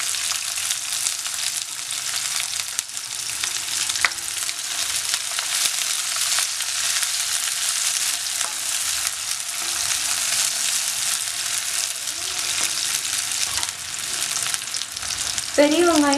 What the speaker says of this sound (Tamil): எண்ணெய் சூடானதுக்கப்புறமா நம்ம பெரிய வெங்காயம் சேர்த்துக்கிறோம்.